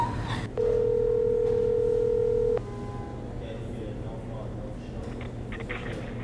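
A steady telephone dial tone sounding for about two seconds while a call is placed, ending abruptly, followed by quieter room sound and faint clicks.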